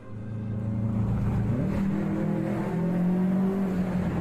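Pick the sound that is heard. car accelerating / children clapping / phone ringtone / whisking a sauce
car accelerating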